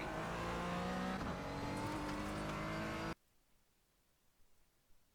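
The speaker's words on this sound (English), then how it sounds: "I'm back on throttle already, right here, right before the tires." A Porsche Cayman GT4 at Oulton Park pulls hard on throttle, its engine a loud, rising drone that cuts off abruptly after about three seconds into near silence.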